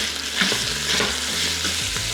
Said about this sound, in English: we just wanna start by browning up this beef and this Italian sausage